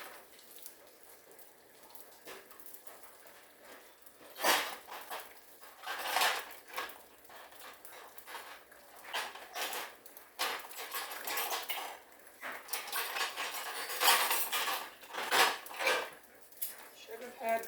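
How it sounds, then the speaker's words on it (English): Forks and metal utensils clatter sharply in a kitchen, scattered bursts of clinking and rattling against soft background noise, fairly close. "Should have had my forks out, right? That made a lot of noise."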